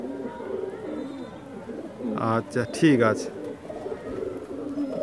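High-flying Giribaj and Madrasi pigeons coo in a loft, a burst of soft throaty coos rising close by in the middle, while someone talks over steady background murmur.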